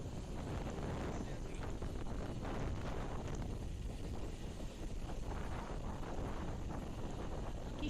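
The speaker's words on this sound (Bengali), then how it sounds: "কি সুন্দর একটা ঠান্ডা হাওয়া" A cool breeze blows outdoors on a cloudy, rain-threatened road home from college. Wind buffets the microphone in a steady, low, rumbling rush that lasts the whole time.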